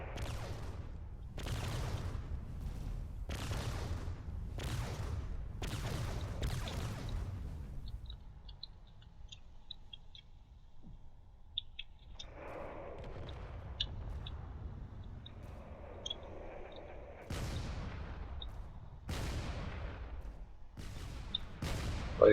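A frigate fires its cannons at another frigate in the video game Drone Wars, booming shots at regular intervals, with a quieter stretch of faint chirps and hum before the firing resumes.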